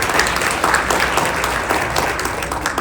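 Audience clapping at a formal reception honouring Bill Blair, steady broadband applause from a room of people lasting the whole stretch, with no voices over it.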